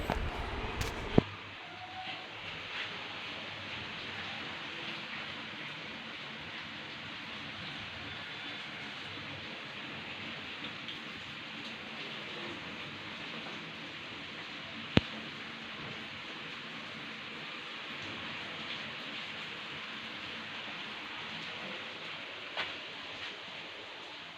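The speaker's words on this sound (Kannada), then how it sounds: "ಮಳೆ ಬರ್ತಾ ಇದೆ" Rain falling outside a house at night during a power cut, a steady, even hiss lasting throughout with a couple of faint knocks and no talk.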